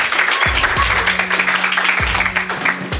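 A workshop audience at a comic book event claps together, a dense burst of applause with a few sharp near claps standing out, with no talk over it.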